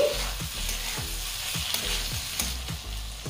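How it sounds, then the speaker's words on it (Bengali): Spring onion curry, with sugar just added, sizzles steadily in a pan while a spatula scrapes and stirs in a regular rhythm of close, repeated strokes. "চিনিটা দিয়ে একটু নেড়েচেড়ে নিচ্ছি"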